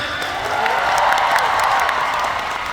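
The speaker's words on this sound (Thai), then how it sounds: "ปรบมือให้เต้นหน่อยครับ" A fan-concert audience applauds the winner of a stage game, with dense clapping and some cheering that swell in the middle and then taper slightly.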